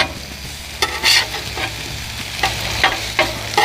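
Pork chops sizzling on a Blackstone flat-top griddle while being flipped, a steady hiss of frying broken by several sharp scraping clatters of the spatula, close and loud with no voices.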